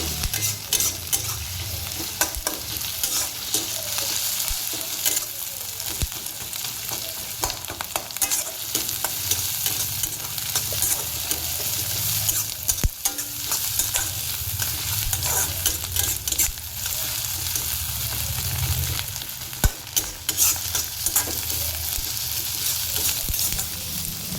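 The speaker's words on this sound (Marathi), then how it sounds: "कांदा आपल्याला मोठा गॅस ठेवून असा लालसर होऊन द्यायचा आहे." Onion frying on a high flame for a curry-leaf and tomato chutney, a steady loud sizzle with occasional stirring scrapes, continuing throughout without talk.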